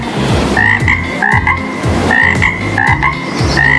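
Cartoon frogs croak repeatedly in a steady rhythmic chorus, loud and close, with regular bursts of throaty calls and no talking, set in an animated science lesson about frog metamorphosis.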